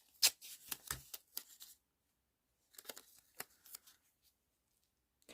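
A strip of adhesive tape pulled and torn off the roll during a Christmas house decoration craft, heard as two clusters of short, crisp ripping and crackling bursts separated by a quiet gap, close by with no talking.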